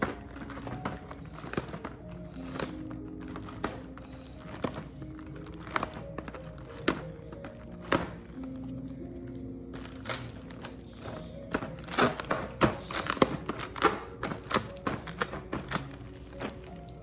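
Tape being peeled and crinkled off a Christmas wagon gift box, giving irregular tearing crackles and taps at moderate level, with no talking.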